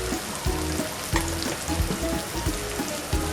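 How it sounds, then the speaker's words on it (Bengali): Spices sizzling and frying with button mushrooms in a pan on medium flame, a constant crackling hiss broken by regular scraping knocks of a spoon stirring the mix. "এটাকে ভালো করে নেড়ে নেব। এটাকে ভালো করে কষাতে হবে।"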